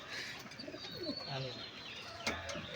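Giribaz pigeons coo in soft repeated rolling calls at close range, with faint background noise and a brief sharper sound near the end.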